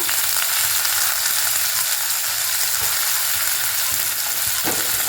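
Washed coriander seeds sizzling in a hot kadai on a gas stove, a loud, constant hissing crackle with small pops, steady throughout and with no talk.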